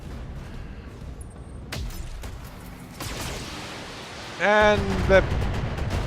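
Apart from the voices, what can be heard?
incoming weapons fire hitting a mech in the video game Battletech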